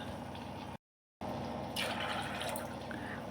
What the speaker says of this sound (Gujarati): પાણી થોડું વધારે નાખીશું